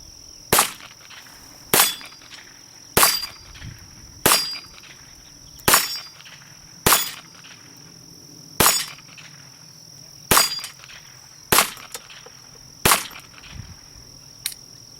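A Ruger Mark I pistol fires about a dozen sharp, loud shots at a steady pace, each roughly a second or so apart, with a brief ringing decay after every report and no talking.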